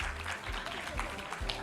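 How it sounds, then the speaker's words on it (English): Applause from a crowd, a dense patter of clapping hands, fairly soft and distant, continuing throughout. "A warm round of applause, please."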